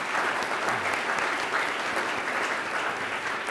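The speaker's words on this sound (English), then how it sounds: "So give a round of applause again for the panel." A conference audience at a nonprofits forum gives a panel a round of applause, a steady wash of many hands clapping at moderate loudness for several seconds.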